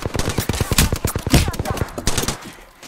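Rapid bursts of automatic gunfire in the Apex Legends video game, loud and close, firing in quick repeated volleys that fade out near the end.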